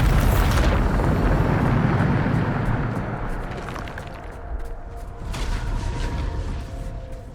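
A Bombarda spell explosion erupts in Hogwarts Legacy, a loud broad blast with a rumbling tail that fades, then swells again with a second burst of debris and crackle.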